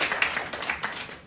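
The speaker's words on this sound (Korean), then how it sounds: "박수 한번 쳐주시고" A poetry creative forum audience of about 300 in Daejeon claps briefly, a light, fairly distant patter of hands with a few sharper individual claps standing out over just over a second.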